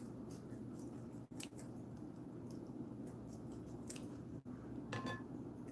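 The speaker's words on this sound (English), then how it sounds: "So these scissors I only use for cutting meat." Kitchen scissors snip through raw chicken in a home kitchen, giving a few soft, close crunching cuts and squishy snips over steady low background hum.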